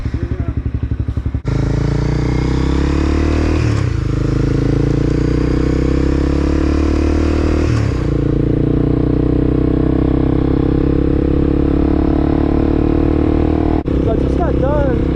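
A motorcycle carrying a rider and a passenger on an afternoon ride runs steadily with a loud, close engine drone and shifting revs across the whole stretch, with wind noise over it.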